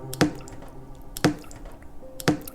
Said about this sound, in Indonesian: aku mulai mendengar suara tetesan air